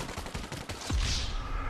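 Bursts of gunfire in GTA Online, a run of rapid shots followed by a heavier blast and a sustained roar, loud and close with no talk over it.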